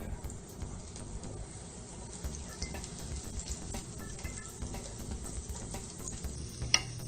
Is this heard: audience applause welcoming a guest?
no